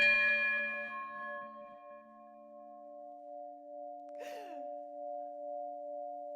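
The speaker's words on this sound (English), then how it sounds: "since this is the oldest working bell in London" An old bell in London, the oldest still working there, is struck once, with a long ringing tone fading away. A second strike a few seconds later gives a quick metallic clang that hums on steadily.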